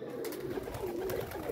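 A pigeon cooing close by, a soft continuous rolling coo that wavers in pitch over light background noise.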